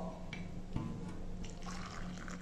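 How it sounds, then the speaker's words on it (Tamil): Hot water, warmed but not boiling, poured into a glass while making murungai (moringa) powder drink: a steady liquid filling sound with soft splashes, close and fairly quiet, no talking. "மீடியமான சூட்டில் எடுத்து நம்ம 1 கிளாஸ் ஊற்றிக்கிடுவோம்."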